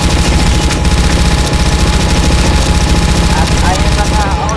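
Video game gunfire during a fight against vampires, rapid continuous bursts of shots dense and loud throughout with a humming engine or aircraft drone underneath.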